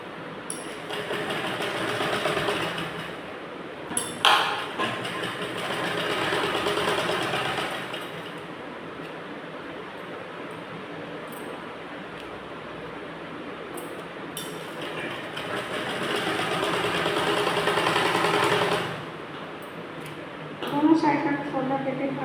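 A sewing machine stitches a blouse seam in two long continuous runs, each several seconds, separated by a pause filled with handling clicks and background noise; a person speaks briefly at the end.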